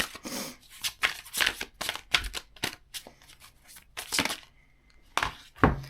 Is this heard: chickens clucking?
no